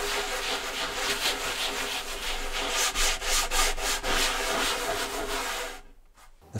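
Wood finish is rubbed by hand into a TV stand with a cloth, giving a close, continuous scrubbing rasp in repeated back-and-forth strokes before it tapers off.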